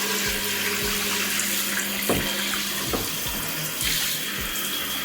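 Tap water pours steadily over a soil- and dirt-caked canister from a bioactive tegu terrarium, a close, continuous splashing rush broken by a few hollow knocks as the container shifts in the sink.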